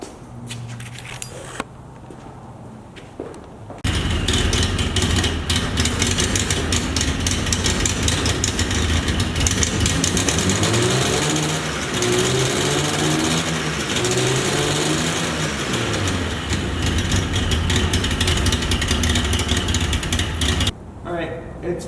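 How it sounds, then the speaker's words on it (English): A 1979 Porsche 924 with a freshly repaired starter cranks and catches, then idles as a steady loud mechanical drone for many seconds before cutting off near the end, with a voice speaking briefly over it. "I'm gonna turn the key and see if she starts."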